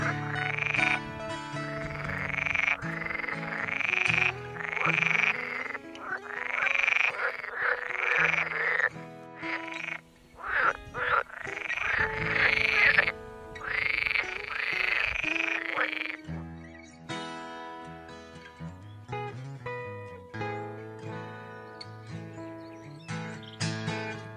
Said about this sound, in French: la vie s'anime alors sous l'activité bruyante des grenouilles vertes